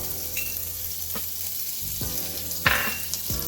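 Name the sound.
garlic, ginger and chilli frying with spices for fish biryani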